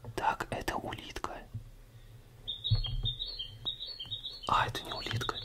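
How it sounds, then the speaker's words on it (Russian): Small bird chirps from an ASMR sound mix repeat in a quick twittering run, fairly clear over a soft background, following a stretch of whispered voice with no words made out. "Это птичка, это не улитка, это птичка."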